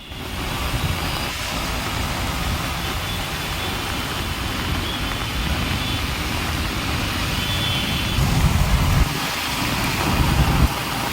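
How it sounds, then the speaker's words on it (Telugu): Moderate rain falls on Hyderabad streets as a loud, steady broadband hiss that continues unbroken, with a faint low rumble of traffic underneath. "హైదరాబాద్ చుట్టుపక్కల ప్రాంతాల్లో మోస్తారు వర్షం పడుతోంది"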